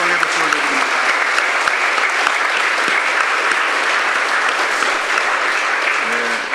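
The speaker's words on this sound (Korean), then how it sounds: "다시 한번 박수로 감사와 영광의 박수를 드립니다." Sustained applause from a church congregation after hymn singing at a joint prayer service, dense, steady clapping filling the whole stretch without a break.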